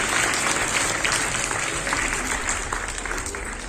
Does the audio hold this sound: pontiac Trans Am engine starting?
no